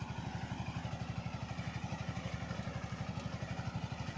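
A farm tractor engine runs in a vegetable field, heard as a faint, steady low chugging with even rapid pulses, continuous and without voices.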